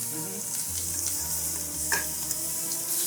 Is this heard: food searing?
yes